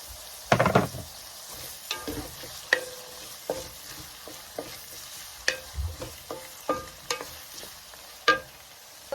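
Chili goes into a hot frying pan for a lentil curry, a quick burst of sizzling followed by scattered stirring scrapes and soft clinks, close and alone without talk.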